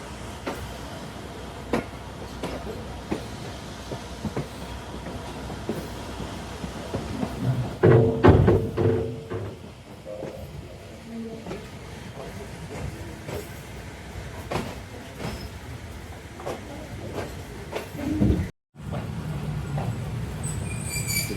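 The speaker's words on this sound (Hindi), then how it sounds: "अभी हम दाखिल हो रहे हैं प्लेटफार्म नंबर 1 बदोमली पे" A passenger train on a monsoon-season route from Narowal to Lahore rolls into a station platform, with steady rumbling wheels, rattling carriages and a burst of squealing brakes and clanks near the middle, heard from onboard.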